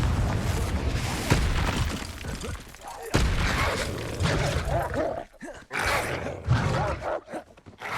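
Confringo blasting spell explosions in Hogwarts Legacy, a series of loud booming blasts and crackling bursts, the roar dropping away in ragged bursts toward the end.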